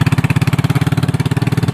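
A small motorcycle engine idles and putters steadily up close, its rapid regular pulsing loud and unbroken with no talking over it.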